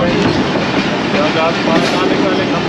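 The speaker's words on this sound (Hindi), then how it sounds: "झेलम रेलवे स्टेशन पहुंच गई ट्रेन।" Train rolling into Jhelum railway station on the Subak Kharam route, with steady loud clickety-clack of wheels and rumbling carriages throughout, heard from inside a coach.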